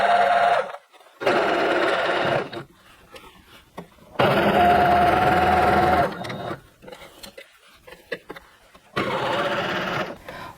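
A home sewing machine runs in three bursts as it sews a leotard, each a loud, close, buzzing whir separated by near-silent pauses and small handling sounds.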